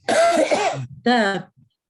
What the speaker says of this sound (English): I'm having a dry allergy cough.